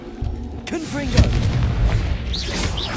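Confringo fire spell blasts booming in Hogwarts Legacy, a loud thumping burst followed by several rumbling impacts amid battle noise and chatter over a couple of seconds.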